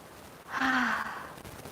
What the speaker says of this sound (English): let me take 2-3 deep breaths